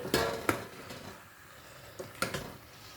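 A spoon stirs boiled potato pieces into a Brussels sprouts curry in a pan, giving a few sharp scrapes and clinks near the start and again later, with a soft sizzle in between.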